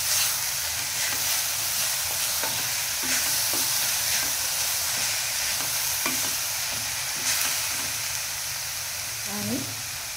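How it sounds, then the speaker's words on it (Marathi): Chopped vegetables seasoned with black pepper and salt for veg momos are stirred and fried in a pan, giving a loud, steady sizzle with scattered scraping clicks of the spoon. A brief voice is heard near the end. "सगळं परत मिक्स करून घेणार आहोत भाज्या."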